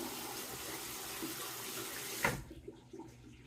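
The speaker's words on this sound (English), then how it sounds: "So I'm going to drain the basin here and wet the razor." Water runs steadily from a bathroom sink basin as it drains while a Gillette Sheraton razor is wetted, then stops abruptly into near quiet with small drips and trickles.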